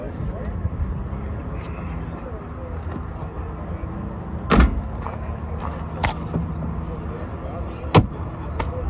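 Doors of an Ineos Grenadier slammed shut during a test drive in Tampa, Florida: two or three sharp, solid thuds a few seconds apart, close and loud over a steady outdoor hum with a person speaking in between.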